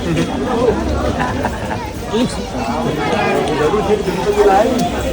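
A crowd waits in a queue at a Ganpati temple on a rainy day, with a dense, continuous babble of many voices and shuffling nearby, and no single speaker standing out.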